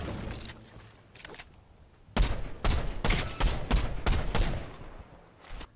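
Bursts of Hammer assault rifle fire in a shooter video game, a few faint shots early, then a loud run of rapid, closely spaced shots, alone without speech.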